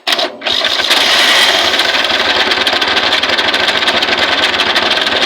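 A small petrol engine with a carburetor, fed through a regulator taken from a gas stove, catches after a brief start and then settles into a steady, loud, close idle with an even rapid chugging pulse.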